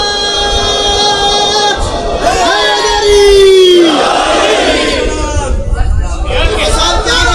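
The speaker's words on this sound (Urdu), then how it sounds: "بلند تر صلوات پڑھیں۔" A large crowd at a religious gathering loudly recites salawat together, a dense swelling chorus of voices with rising and falling chanted tones, sustained throughout.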